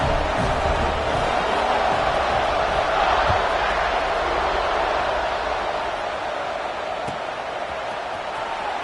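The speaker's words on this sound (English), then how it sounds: "this crowd is buzzing after that last score" Stadium crowd in an NCAA 26 college football video game, buzzing after a score: a steady, dense roar of many voices holding at an even level throughout, with no clear individual shouts.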